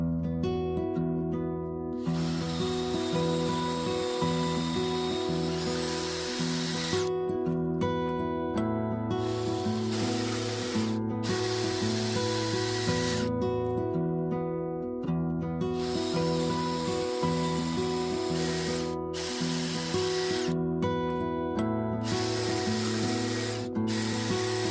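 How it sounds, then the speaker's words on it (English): A power drill whirs steadily in repeated bursts drilling holes in wood, the motor pitch dipping as it bites in, with brief pauses between holes. "I'm going to be drilling holes in the top"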